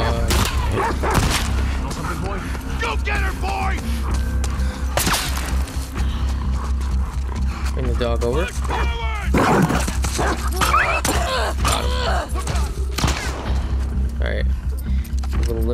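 Dogs in The Last of Us Part II bark and yip in short bursts amid combat, with sharp impacts, a steady low rumble and a voice speaking over the action.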